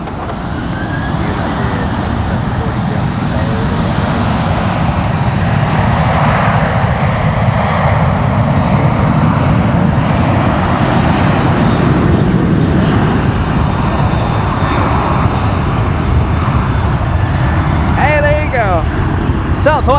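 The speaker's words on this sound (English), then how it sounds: "Southwest taking off," A Southwest airliner takes off at San Francisco airport, its jet engines making a loud, steady roar that fills the whole stretch without fading.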